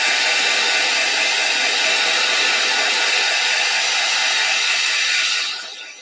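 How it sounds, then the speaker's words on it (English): A dryer blowing air over napkins laid on a paper towel gives a steady, loud, broadband whoosh that runs continuously for several seconds and then starts to fade at the end. "okay, the dryer is going to go on."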